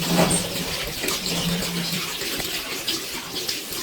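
Water runs steadily from a tap during hand washing before a blood pressure procedure, a continuous close splashing hiss with no voices.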